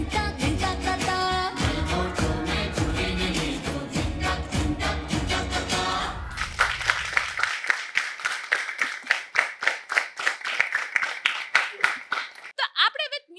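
Garba dance practice for Navratri: music plays at first, then a long run of crisp, evenly spaced hand claps carries on alone in a steady rhythm, close and fairly loud.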